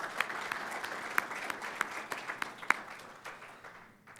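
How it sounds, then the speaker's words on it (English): Audience applause at a forum hosted at the Federal Reserve Bank of Atlanta: a moderate, fairly distant wash of clapping with a few sharper nearby claps, tapering off toward the end. "Let's give them a big round of applause."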